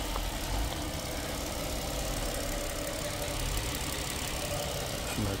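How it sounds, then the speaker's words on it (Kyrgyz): A clean, dry V6 car engine running steadily at idle, a loud continuous broadband hum and rumble with no change in rhythm, heard alone without talk. "Ушундай V6 мотор таза экен, кургак, иштеши жакшы."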